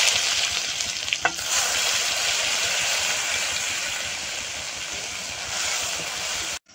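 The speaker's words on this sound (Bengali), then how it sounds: "কড়াইতে তেল দিয়ে দেবো, 5 ফোড়ন দিয়ে দেবো, পেঁয়াজের কুচি" Chopped onion frying in hot oil with five-spice in a wok, a steady close sizzle running throughout with one brief clatter near the start, no voices.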